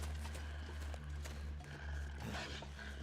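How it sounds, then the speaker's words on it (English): Animal footsteps in The Long Dark video game thud in a loose rhythm beneath a dense, constant ambient wind drone that fills the whole stretch. "I heard footsteps there."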